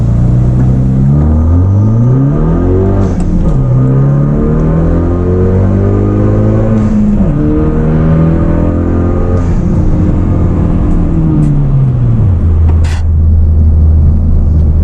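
A 2016 Hyundai Veloster Turbo accelerates hard from about 10 to 60 mph, its engine note climbing steadily through several gear changes. Each upshift drops the pitch before it rises again, and the sound stays loud and close throughout with no talking.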